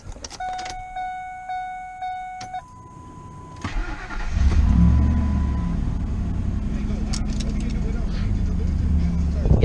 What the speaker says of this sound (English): Now I'm going to go ahead and start the truck up